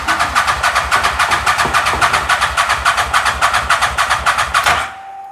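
A CF Moto Z Force 800 side-by-side, previously fire-damaged, cranks with a steady rapid pulsing engine rhythm for about five seconds, loud and close, then cuts off abruptly, leaving a faint hum.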